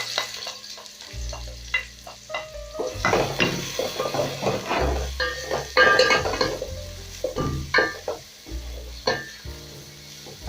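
Onions sautéing in about two tablespoons of hot cooking oil in a pan for fried cabbage, a steady close sizzle broken by repeated scrapes and clinks of a utensil stirring against the pan.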